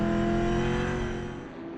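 Onboard a big Senator race car lapping a wet circuit, the engine droning loud and steady with strong harmonics before easing slightly near the end.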